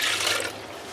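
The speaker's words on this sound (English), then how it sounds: "I got some coolant. Just gonna pour some of this in." Coolant is poured through a funnel into the radiator of a 1997 Honda Civic, a brief soft gush of liquid that fades after half a second.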